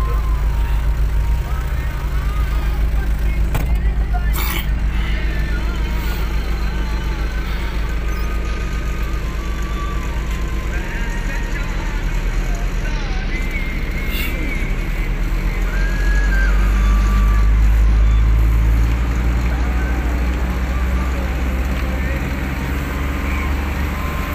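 A car drives through rice paddy country back toward Shorkot city, with a steady road rumble and engine drone throughout, swelling slightly near the end, and occasional brief knocks over the continuous noise.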